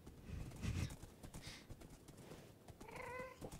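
A horse in Minecraft on a Life Steal SMP server, with quiet hoof clops scattered throughout and a short neigh near the end, faint against low background game noise.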